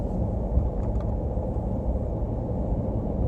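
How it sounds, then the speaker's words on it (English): A 2019 Nissan Titan Pro4X drones with a steady low rumble while towing ATVs up a steep mountain grade, engine noise dominant and continuous. "It does have a mean sound in the motor once you do start climbing."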